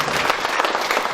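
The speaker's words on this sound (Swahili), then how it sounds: "Wapigie makofi." An audience claps together at a show, a brief dense burst of applause close by with no talk over it.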